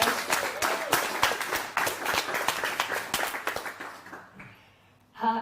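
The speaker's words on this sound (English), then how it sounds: "So can we all please give them an incredibly big round of applause?" Moderate-sized audience at an industry networking event clapping for the organisers, distinct individual claps in a steady round that tapers off, followed by a brief voice.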